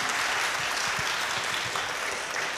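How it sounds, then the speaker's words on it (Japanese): Audience applause for two lyricists at a Love and Peace concert, a steady wash of many hands clapping at moderate level, sustained throughout with no voices over it. "どうぞお二人に拍手をお願いいたします。"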